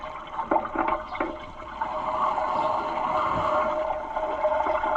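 Coolant spilling and splashing while a WHITE 4-180 tractor radiator is drained, a steady rushing, gurgling pour of liquid that continues throughout.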